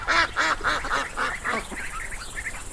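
A duck quacks in a quick run of about six loud, nasal calls close by, then trails off into a few softer, shorter quacks.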